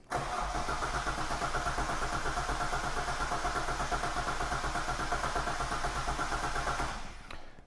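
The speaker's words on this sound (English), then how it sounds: "So let me just crank it a little bit more again and then come and try the same test." A Hyundai Terracan with a misfire cranks and runs for about seven seconds, the engine sound close, rough and continuous before cutting off abruptly.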